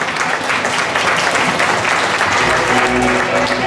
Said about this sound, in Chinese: 我们再次给乖乖班热情的掌声